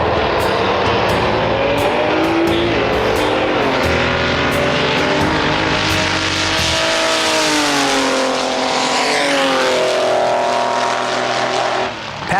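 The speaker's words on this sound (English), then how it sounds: "I'll just drive it up and down the track." A nostalgia dragster run up the drag strip, its engine roaring loud and continuous with rising and falling revs that sweep up through the run, close and overpowering, no voices.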